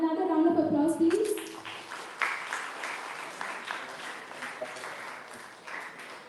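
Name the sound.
audience applause at hackathon event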